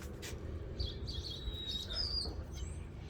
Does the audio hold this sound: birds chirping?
yes